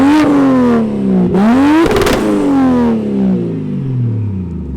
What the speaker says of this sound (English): I'll do a couple revs to clear out the plugs.